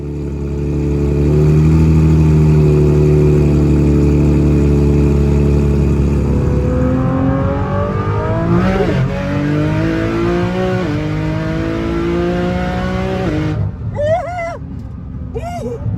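A 1600-wheel-horsepower race car, an Alpha 16, accelerating hard on a road course, its engine a loud, sustained roar that climbs in pitch through each gear, with shift breaks and a burst of noise near the end.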